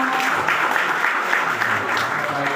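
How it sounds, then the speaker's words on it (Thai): Audience at a provincial scout camp in Udon Thani applauding steadily, a dense continuous clatter of many hands close by with no voices standing out. "ปรบมือครับ"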